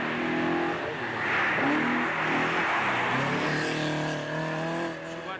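A Subaru rally car drives past at a classic-car rally in Monte Carlo, its engine droning and revving loudly and steadily across the whole stretch, with a harsh rasp that swells slightly midway.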